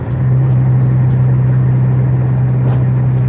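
A car engine and exhaust drone steadily and loudly at close range, a smooth low hum holding constant throughout with no voices over it.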